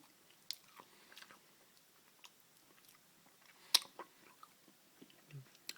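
Someone chews maple and orange nougat near the microphone, giving soft intermittent crunches and a sharp snap, with faint chewing between the bites in a quiet room.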